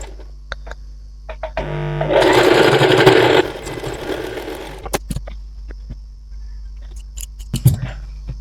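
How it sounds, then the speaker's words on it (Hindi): Sewing machine stitching ladies' trouser fabric, a dense continuous whir in a burst of about three seconds, close and fairly loud, with quieter handling clicks and taps before and after. "यहाँ पे हम इसको इस तरह से सिलाई लगा लेंगे।"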